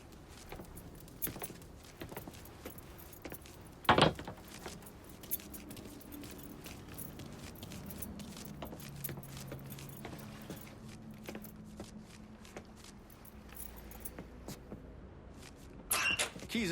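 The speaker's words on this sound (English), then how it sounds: "Lincoln, pick up the keys." Keys are picked up in the Mafia 3 video game with a bright metallic jingle near four seconds and another at the end. Low ambient game sound and scattered small clicks run between them.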